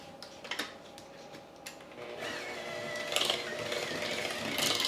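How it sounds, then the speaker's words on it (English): Chocolate chip cookie batter being stirred in a bowl, a soft scraping and clicking mix that starts with a few taps and builds into a steady, continuous churn close by. "we're gonna go ahead and give that a mix then."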